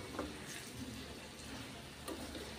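Chopped drumstick pods (shevga) are stirred into frying masala, giving a faint, steady sizzle. Soft scraping and stirring bumps rise now and then above the low crackle.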